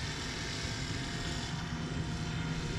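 A paramotor engine and propeller run under steady climbing throttle, a continuous close droning roar with no break over the whole stretch.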